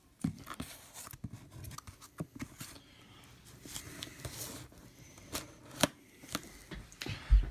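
Scissors cut open a cardboard package for a collectible figure, giving irregular snipping and crinkling rustles, close and fairly quiet with small bumps and handling noises between the cuts.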